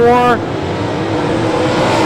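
Modified race cars of the American Modified Series roar past at Brownstown Speedway, a loud engine whine that drops sharply as a car passes, then a sustained rumble of the pack under an announcer's commentary.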